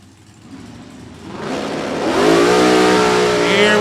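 Top Dragster drag racing car launching down the strip at Thunder Valley Motorsports Park, a roaring engine that swells from a distant rumble into a loud, rising howl as the car accelerates.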